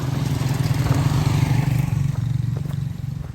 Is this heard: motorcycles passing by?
yes